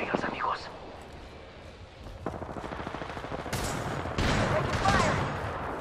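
Rapid bursts of video game gunfire crackle in quick repeated volleys, with sharp single shots mixed in, moderately loud and close, under a speaking voice.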